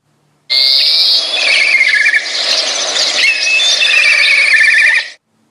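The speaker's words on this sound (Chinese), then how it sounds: "鹞子" A harrier calls in a sustained, shrill, squealing stream of high notes lasting several seconds, loud and close with no other sounds.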